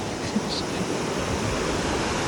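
A river flows steadily beside a bridge at Gangori in Uttarkashi, a continuous rushing wash of water that stays close and fairly loud for the whole stretch, with no voices.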